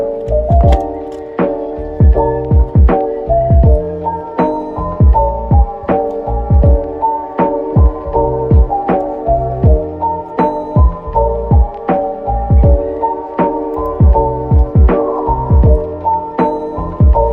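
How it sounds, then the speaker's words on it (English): A home printer runs off K-pop photocards, its mechanism thumping and whirring in a steady repeating rhythm of close, loud pulses, with no one talking. "While printing, I figure out that sometimes printer gets the bad paper uneven."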